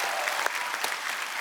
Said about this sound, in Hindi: एक बार फरहान और अर्जुन के लिए जोरदार तालियां